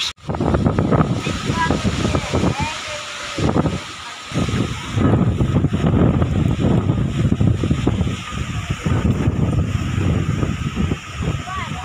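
A strong windstorm roars steadily around village mud houses, a dense, continuous rushing that buffets the microphone and dips only briefly, with faint voices at times beneath it.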